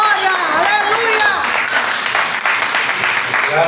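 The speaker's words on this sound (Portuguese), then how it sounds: "Aplauda ele mais uma vez." Church congregation applauding after a sermon, a loud crowded burst of clapping and cheering with voices shouting over it, staying dense and close throughout.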